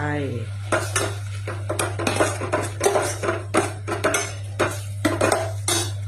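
Pork tossed into a hot pan, sizzling and frying with steady stirring and repeated utensil scrapes and taps against the cookware, close by, over a constant low hum.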